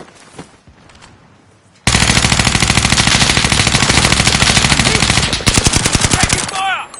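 Sustained, very loud rapid automatic gunfire from a video game erupts abruptly after a quieter stretch and rattles on for several seconds, with a few distinct shots and a shouted voice near the end.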